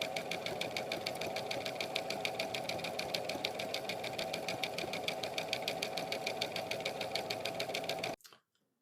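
A sewing machine stitches steadily along fabric pleats for a ruffled bag, a fast even mechanical chatter running for about eight seconds close up before stopping abruptly.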